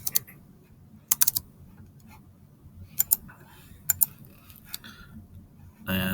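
Keystrokes on a computer keyboard come in short clustered bursts with pauses between, fairly close and crisp over a low steady room hum, no talk.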